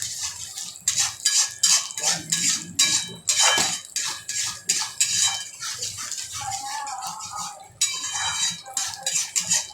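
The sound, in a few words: sautéing onion-coconut masala paste in oil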